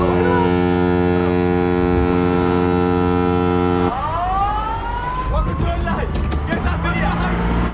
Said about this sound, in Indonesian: tiba-tiba para perompak dikagetkan dengan suara klakson kapal dari luar